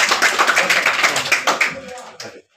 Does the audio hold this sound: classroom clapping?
yes